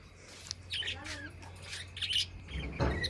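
A parrot perched up high at a home gives several short, scratchy squawks and chirps in quick succession, moderately close, over faint background noise.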